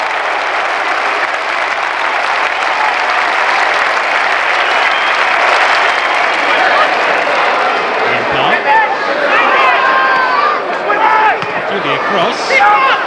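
A football crowd cheers and applauds a goal pulled back against Peterborough in the 1992/93 season, a loud sustained roar of clapping and shouting that swells and carries on, with a commentator's voice faint underneath.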